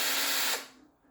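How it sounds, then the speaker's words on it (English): A small power drill whirs loudly for about half a second, then winds down quickly and fades to near silence. "here's a little drill"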